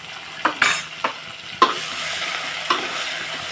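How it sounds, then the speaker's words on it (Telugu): Onions frying in a pan being stirred with a spatula, a steady sizzle broken by a few distinct scraping strokes near and clear, no voices. "ఇప్పుడు ఒకసారి బాగా కలుపుకోవాలి మనం"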